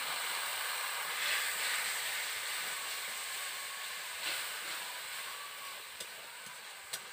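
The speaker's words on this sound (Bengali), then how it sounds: "দিয়ে দিলাম পরিমাণ মতন জল।" Water poured onto spice paste frying in a pan for a village-style pumpkin greens (kumro shak) dish, producing a steady, loud, broad hiss and sizzle with a few small pops and no voices.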